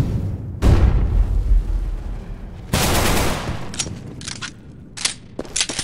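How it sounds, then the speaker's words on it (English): Counter-Strike match sounds in a pro league game: a loud flashbang blast, a second heavy broadband burst, then several short sharp gunfire volleys, all close and without talk. "Throwing a flashbang."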